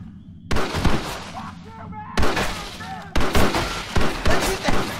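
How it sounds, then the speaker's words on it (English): Gunfire from the Western video game Red Dead Redemption in hardcore mode comes in loud, abrupt volleys: a blast, another burst about two seconds later, then a run of rapid shots packed with echoing cracks. "Let's shoot the hell out of these cowards!"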